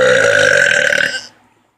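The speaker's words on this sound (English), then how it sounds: "King Kong burp." A single long, loud burp, resonant and sustained for over a second before cutting off, heard up close and alone.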